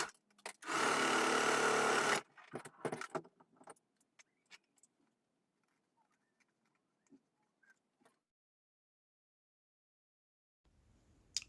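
A sewing machine runs in one steady burst of about a second and a half while stitching the dots on folded dress fabric pieces for a double circle dress, followed by quiet handling clicks and rustles, with no talk.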